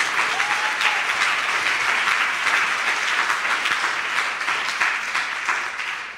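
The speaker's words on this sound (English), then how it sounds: "So I think they deserve a round of applause." An audience at a stage poetry performance applauds, with dense, steady clapping that holds for several seconds and then begins to fade toward the end.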